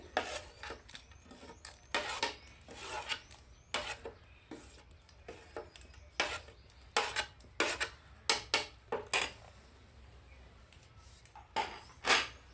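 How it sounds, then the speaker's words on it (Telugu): Chillies and coriander seeds pounded in a stone mortar, a series of sharp, close knocks and scraping rubs in an uneven rhythm, fairly quiet with short gaps between strikes. "ఇవి మిరపకాయలు ధనియాలు రోట్ వచ్చేసి దంచుదామండి"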